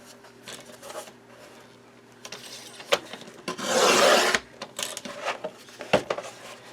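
A paper trimmer blade slices along the 8-inch side of a cloth-covered album cover, giving a close, brief rasping scrape in the middle, surrounded by light handling clicks and rubs.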